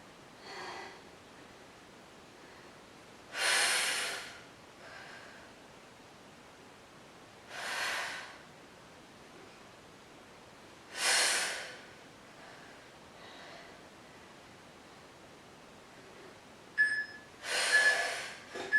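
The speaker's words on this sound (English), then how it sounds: "Big exhale." Strong breaths pushed out during a Pilates workout class, several loud, forceful exhales spaced a few seconds apart, close and airy over a quiet room.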